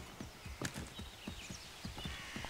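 Quiet clip-clop of a horse's hooves in a rhythmic trot in the video game Assassin's Creed 3, with a soft snort, faint and steady.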